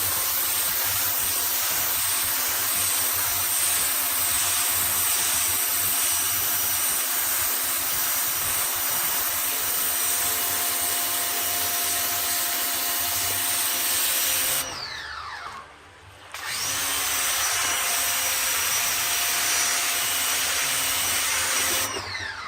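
A Greenworks GPW1602 electric pressure washer sprays while cleaning a car, giving a loud steady motor hum with a hissing spray. It cuts out briefly near the end, then starts again and keeps running.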